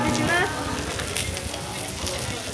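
A hamburg steak served on a hot iron plate at a restaurant sizzles and spits steadily and close, a dense crackling hiss with faint voices in the background.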